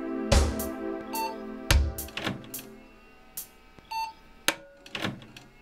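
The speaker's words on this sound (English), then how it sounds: "One short beep, the PC boots" A Pentium II PC gives a single short POST beep as it boots, amid clicks and clunks of the case and drives being handled nearby.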